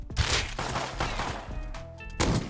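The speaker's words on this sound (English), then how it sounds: "I went to investigate some gunshots I heard" Several gunshots ring out in the survival video game Rust, a close burst of sharp cracks followed by a ringing tail and another shot near the end, with no talking.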